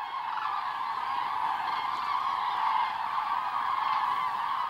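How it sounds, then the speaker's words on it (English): Common cranes calling over the Baltic Sea during migration, a dense, continuous chorus of honking bird calls that holds steady and fairly loud throughout, with no speech. "crane families make the trip southwards together"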